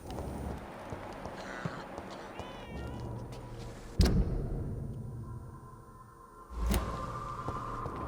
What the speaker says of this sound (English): I can hear the bloody cat again.